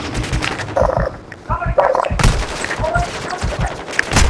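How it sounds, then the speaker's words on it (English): Call of Duty: Modern Warfare II gameplay: close, loud bursts of rapid gunfire and sharp explosive cracks over a few seconds, mixed with in-game voice callouts. "Taking effective fire!"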